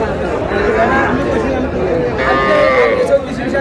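Sahiwal bull calves at a cattle market in Pabna low and moo a few times over a busy background of crowd chatter, the calls fairly close and drawn out.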